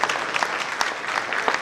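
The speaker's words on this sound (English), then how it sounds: "I'd like you to give her a round of applause again." An audience at a talk on organizational development applauds after a presentation, a dense burst of clapping from many hands that stays fairly close and steady.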